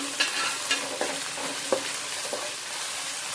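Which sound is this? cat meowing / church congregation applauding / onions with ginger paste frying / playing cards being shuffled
onions with ginger paste frying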